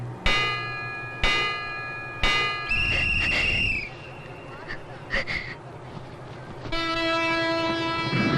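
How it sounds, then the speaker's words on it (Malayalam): Kanyakumari–Bangalore Express, train number 6526, at platform number 1 of a railway station, with chime tones and a horn blast, then a steady sustained horn toward the end, over rumbling station noise. "Train number 6526 Bangalore bound Kanyakumari Bangalore express leave from platform number 1 shortly."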